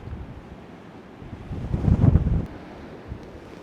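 Wind gusts against the microphone, a low rumbling whoosh that swells to a peak midway and then settles, with no voices.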